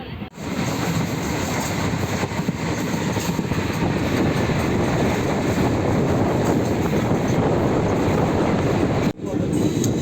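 Inside a long passenger train on an Indian railway line approaching Nasirabad station, a steady loud rumble and rattle of the moving carriage fills the whole stretch, with no clear talk.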